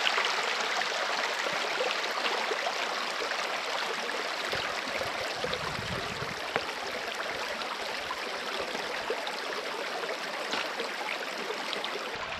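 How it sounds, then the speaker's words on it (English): A river in the Superstition Mountains rushes steadily over rocks, a close, continuous broadband wash of flowing water with no talking. "we're pretty much going to be going back and forth across the river here"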